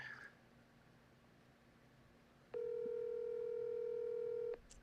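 Phone ringback tone on an outgoing call, a single steady electronic tone lasting about two seconds after a quiet stretch, clear and close with no speech.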